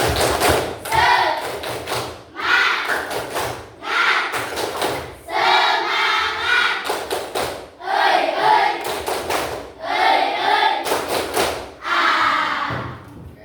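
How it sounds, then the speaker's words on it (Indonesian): A class of students performs a tepuk semangat spirit cheer, with loud, close bursts of rhythmic group clapping in quick clusters alternating with energetic shouted chanting in unison, repeating steadily throughout. "biar semangat dulu, baiknya kita kasih tepuk semangat dulu ya"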